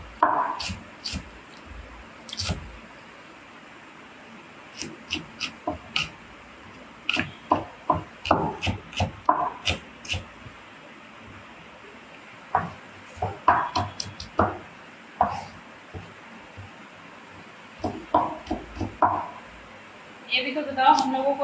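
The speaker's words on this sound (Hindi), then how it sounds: "पहले स्लाइसेस काट रही है, फिर उसके बाद चालू होगी धकाधक धकाधक धकाधक" A knife cuts an onion into slices on a board, making crisp, irregular knocks that come in quick clusters and pauses, with a voice heard at times.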